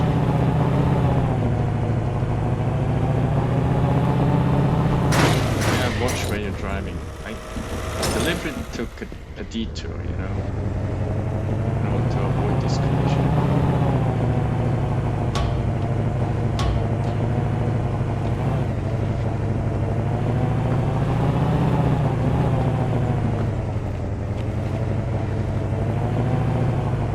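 A simulated car engine in the video game Car Dealer Simulator hums steadily at a constant pitch throughout, with a brief burst of noise partway through and a person talking over it.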